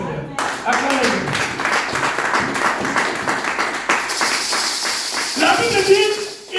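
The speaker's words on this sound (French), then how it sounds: "Acclamez pour les Seigneur." A church congregation claps together in a fast, steady rhythm that goes on the whole time, loud and close, with voices mixed in underneath.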